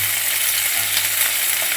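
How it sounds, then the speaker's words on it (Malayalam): Chopped red onion and garlic fry in oil in a pan for an okra masala, producing a loud, steady, close sizzle with no one talking. "ചുമന്ന ഉള്ളി ഒരു 4-5 എണ്ണം അരിഞ്ഞത്, വെളുത്തുള്ളി ഒരു 5 വെളുത്തുള്ളി അരിഞ്ഞത് ആഡ് ചെയ്ത് നന്നായിട്ട് അതിനങ്ങോട്ട് മൊരിയട്ടെ"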